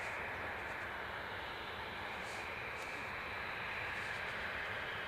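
An airliner departs Edinburgh Airport for London Stansted, its engines a steady, distant broadband roar that holds evenly throughout without breaks.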